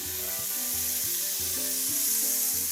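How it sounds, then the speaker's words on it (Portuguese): Beef frying in a pan for Maria Isabel com queijo, a loud continuous sizzle with small bits added at a time, steady and close, alone without voices. "Tem que deixar ela fritando e tem que ser aos pouquinhos mesmo"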